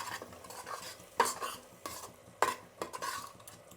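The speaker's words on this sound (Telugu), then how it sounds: "ఇప్పుడు దీన్ని కలుపుకుందాము." Tomato bath with peas and curd being stirred in a pot, a spoon scraping and clinking against the metal in a few distinct strokes over a faint simmer, close and fairly quiet.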